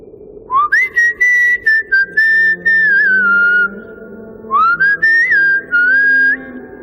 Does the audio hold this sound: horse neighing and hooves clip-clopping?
no